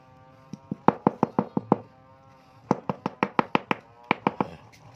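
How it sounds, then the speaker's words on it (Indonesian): Sharp knocking taps on a Toyota Kijang clutch master cylinder to work a part loose, struck in three quick bursts of evenly spaced hits, close and loud in a quiet room. "kita lepas dulu ya, dengan mengetuk-ketukkan ya"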